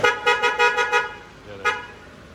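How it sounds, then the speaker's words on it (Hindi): An Army Gypsy's car horn honks in five quick, evenly spaced toots, then pauses before a single final beep, loud and close. "हॉर्न भी सही।"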